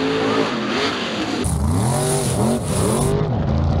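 A mega truck powered by an alcohol-injected 598 big block Chevrolet with a Powerglide transmission, F106 rear ends and 12 424 tires, its engine roaring loud and steady up close, the pitch rising and falling through repeated revs.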